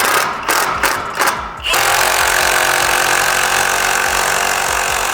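A power tool with a 16mm socket tightens exhaust bolts on a new BMW M3 fitted with a Dinan exhaust. A few short loud bursts lead into a long, steady, close whirring run.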